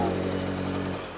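A Bajaj Pulsar 135 motorcycle idles close by at a used bike market, giving a steady, fairly quiet mechanical hum with a low putter that eases off slightly near the end.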